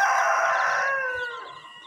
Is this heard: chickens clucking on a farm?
yes